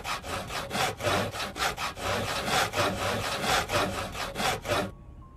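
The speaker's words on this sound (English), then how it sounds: "I stopped sawing." Repeated back-and-forth strokes of a saw cutting through wood while building a fence in the survival game Project Zomboid, steady and fairly loud for about five seconds before stopping abruptly.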